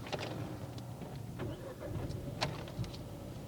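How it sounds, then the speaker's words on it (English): A car engine cranks and catches while a learner sits at the controls during a driving test. The start is close and steady, with a brief spike partway through and no talk over it. "You need to put the clutch down to start this car."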